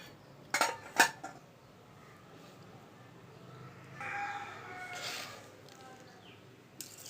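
A metal kadai set down and handled on the stove as oil goes in for tempering Telugu cucumber chutney, with two sharp clanks near the start, then softer scraping and handling noises.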